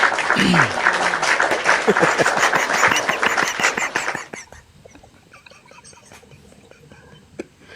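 Applause from a crowd, dense and loud for about four seconds with a quick rise, then abruptly dropping away to a quiet room with faint scattered sounds.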